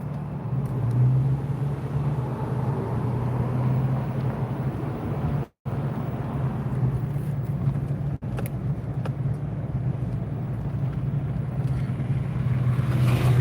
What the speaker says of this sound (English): Yes, I am driving in Okanagan tonight.